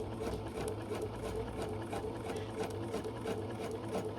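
A Bernina 770 sewing machine stitches continuously up close, a fast, even mechanical whir with rapid needle ticks and no pauses.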